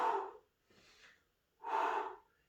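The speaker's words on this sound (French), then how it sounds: "Là, je souffle et j'inspire." Gentle gym-class breathing: a strong, close breath out, a softer intake, then another full breath out, with no talking over it.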